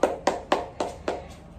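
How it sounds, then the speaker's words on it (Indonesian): Five or six rhythmic claps from a small classroom group during a microteaching lesson, evenly spaced, close and moderately loud, with no talking. "Beri tepuk tangan yang meriah untuk Mbak Adel"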